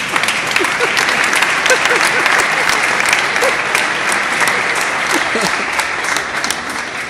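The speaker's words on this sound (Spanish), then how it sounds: "Se adelantaron con el aplauso" Audience applause at a talk by Paco Taibo II at a workers' hall, a dense steady roar of clapping that holds loud and even throughout, with crowd voices mixed in.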